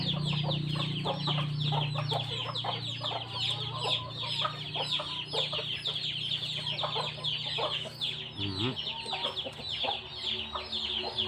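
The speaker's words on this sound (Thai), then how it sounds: "ฟังเสียงไก่ดิ" Chickens clucking steadily in a rural outdoor setting, a dense busy chatter of hens close by with a loud low hum underneath that cuts out briefly midway.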